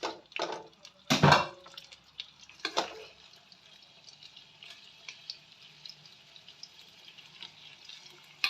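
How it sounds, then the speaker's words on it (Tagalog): Chicken legs are set into hot oil in a pan. A few loud clattering knocks come at the start, then a soft, thin sizzle carries on quietly in the background, with no talking. "iprito lang natin ang bahagya yung ating manok"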